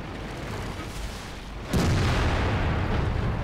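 A Type 59 tank cannon in World of Tanks fires a single heavy boom with gold ammo, a sharp onset followed by a sustained rumbling roar over steady background noise.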